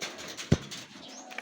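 Racing pigeons at a training release in Sto. Tomas, La Union: a brief soft cooing and one dull thump over faint outdoor background, all over in about a second.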